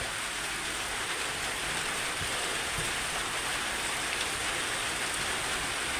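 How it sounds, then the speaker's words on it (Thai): Heavy rain patters loudly and steadily on a low roof, a dense unbroken hiss of drops with occasional sharper taps. "เสียงดังแน่ได้พี่น้องเลยหลังคามันต่ ำปอกแปกปอกแปกพอฝนตก"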